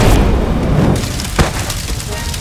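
A Pokémon-style Fire Fang attack lands with a booming, crackling impact, a dense low rumble running throughout and a sharper crack near the middle, close and loud with faint voice underneath.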